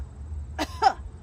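A single deliberate cough, made as a breathing-exercise demonstration, sounds as a short sharp burst followed by a second throaty push, close and clear against a quiet room hum.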